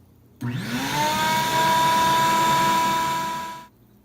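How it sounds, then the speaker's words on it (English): A vacuum on its suction side cleaning the catalytic converter of a wood stove. The motor whines up to a steady high-pitched roar, runs loud and alone for about three seconds, then switches off and winds down. "I let that run for about 10 minutes on the suction side of the vacuum"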